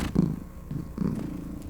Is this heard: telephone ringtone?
no